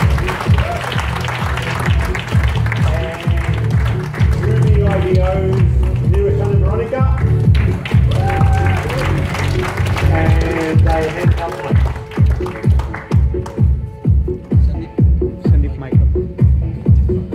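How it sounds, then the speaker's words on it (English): Applause greets presenters coming on stage at a business training event in Melbourne, blending with loud music that has a steady, thumping beat while a voice speaks over the top. "Big round of applause."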